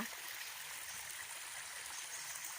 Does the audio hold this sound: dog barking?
no